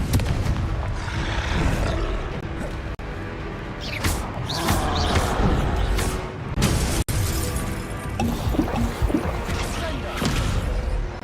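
Confringo fire-blast spells exploding during combat in a Hogwarts wizarding video game, heard as repeated booming bursts and crackling impacts over a busy battle backdrop, with voices speaking throughout.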